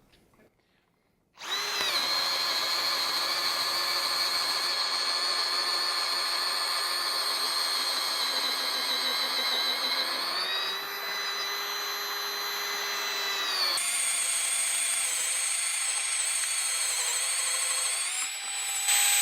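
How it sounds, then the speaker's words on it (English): A Bosch cordless drill in first gear whines steadily and loudly at close range boring large holes in a wooden fence post, its pitch shifting slightly a few times as it bores continuously. "we're going to drill some fairly large holes in this fence post in first gear with this machine"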